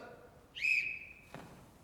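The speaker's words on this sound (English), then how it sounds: "A whistle?" A single short, shrill whistle blast sounds in a Sherlock Holmes game scene, clear and fairly close, followed by a soft thump.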